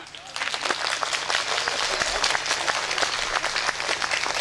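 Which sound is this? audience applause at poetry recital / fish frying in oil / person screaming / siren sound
audience applause at poetry recital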